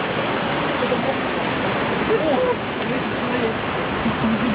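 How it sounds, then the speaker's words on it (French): Continuous splashing rush of small waterfalls among greenery in Hong Kong, a steady broadband wash with faint voices murmuring beneath it. "On a des petites cascades avec de la verdure"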